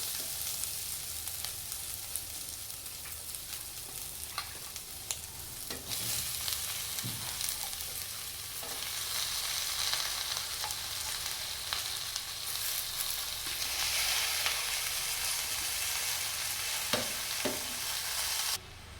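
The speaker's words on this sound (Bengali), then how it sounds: "এবার শাকটা একটু ভালো করে নাড়িয়ে দিয়ে মিশিয়ে দিতে হবে সব আলু মশলার সঙ্গে" Spinach being stir-fried with potatoes and spices in a pan gives a steady close sizzle, with scraping stirs and occasional clinks of a spatula against the pan throughout, and no voices.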